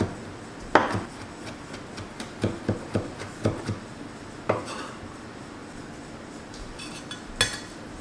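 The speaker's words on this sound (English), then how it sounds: "chop it up, make it easy to pound it" A knife chops cilantro root and garlic on a cutting board, a series of sharp, close taps in irregular bursts with quiet gaps and a few softer scraping knocks.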